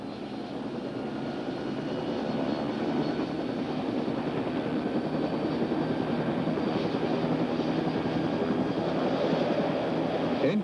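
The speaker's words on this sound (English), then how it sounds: "Slowly increase the throttle to full increase." Bell OH-58 helicopter engine with the throttle being raised to full, a steady loud whine and roar that holds constant and slightly builds, with no talk.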